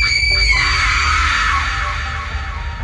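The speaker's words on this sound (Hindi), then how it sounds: "तभी सामने से चीखने चिल्लाने की आवाज आने लगती है।" Loud, shrill screaming rings out close by over a deep rumbling background, voices overlapping and sustained before fading slightly.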